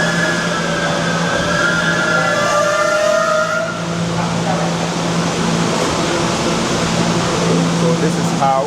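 B subway train arriving at Bryant Park station in New York City, a loud steady rumble with squealing tones and a constant whooshing roar echoing through the platform, with faint voices mixed in.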